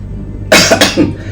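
A single sharp cough, close up, breaking into two or three quick bursts within about half a second.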